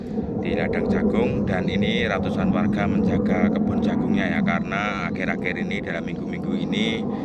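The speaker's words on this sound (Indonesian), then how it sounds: "mohon maaf suaranya agak terganggu karena ada latihan pesawat" A steady low roar of a training aircraft passing overhead a cornfield, loud and continuous, with a person talking over it throughout.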